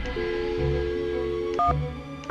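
Phone keypad tones from a Nancy Drew game, with a steady tone followed by two short dialing beeps near the end, clean and close with no talk.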